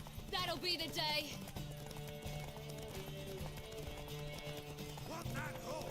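Hooves clip-clop in a quick galloping rhythm in the video game The Witcher 3: Wild Hunt, with a horse's whinny near the start, over a musical score and bits of speech.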